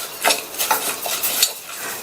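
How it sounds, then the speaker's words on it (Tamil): Moong dal dry-roasting in a pressure cooker, stirred with a spoon: a series of dry scraping, rustling strokes against the metal base at an irregular rhythm, close and moderately quiet. "இந்த குக்கர்ல சேர்த்துட்டு 2 நிமிஷத்துக்கு மட்டும் மிதமான தீயில வச்சு இந்த பாசிப்பருப்பை வறுத்துக்கங்க"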